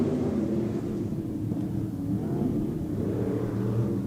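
Stock cars race at an off-road speedway as the field bunches into a turn, a steady, loud blend of mid-pitched engines rumbling and revving together without pause, with no voices over them.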